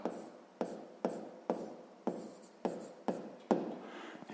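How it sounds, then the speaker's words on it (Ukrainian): Pen strokes on paper as a math answer is written down by hand: a series of short, crisp scratching bursts about half a second apart, close and fairly quiet, with no talk. "Давайте коротко запишемо, що так."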